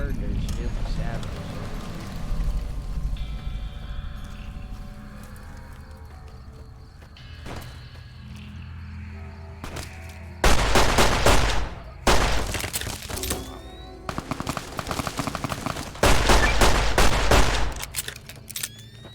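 Heavy anti-materiel rifle fire in Fallout New Vegas, with several loud, sustained bursts of shots in the second half, following a quieter stretch of game ambience and murmured voice.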